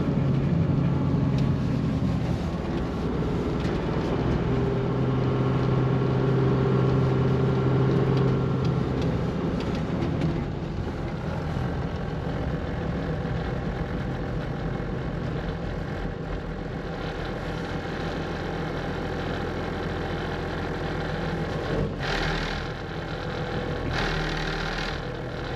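Dakar rally race vehicles in the vehicle park, engines idling and rumbling steadily for about twenty-five seconds, with another engine revving and passing near the end.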